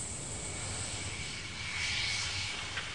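Concorde's four Rolls-Royce Olympus jet engines produce a steady, loud aircraft roar with a constant high whine, heard from inside or nearby without talk.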